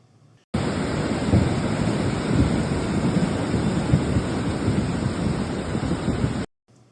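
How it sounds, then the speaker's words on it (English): Heavy rain pours steadily near Stellenbosch in the Western Cape with rumbling thunder underneath, a dense loud wash that holds unbroken for about six seconds before cutting off. "a little video of what has been happening with the rain near us just this morning"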